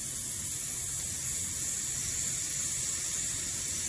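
A garden irrigation sprinkler sprays water with a steady, loud, unbroken hiss that holds evenly throughout.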